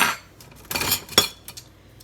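Oat flour whisked in a bowl, a few quick clinking, scraping strokes of the whisk against the bowl, close and fairly loud, with no talking.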